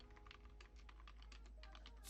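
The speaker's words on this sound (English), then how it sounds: "I was typing something" Close, quiet keystrokes on a computer keyboard tap in an uneven, quick rhythm for the whole stretch over a low steady hum, with no voice.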